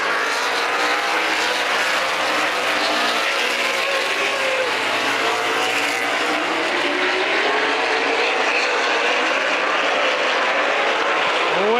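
A field of race cars accelerating at the green flag, a loud, continuous engine roar that builds and sweeps as the pack passes.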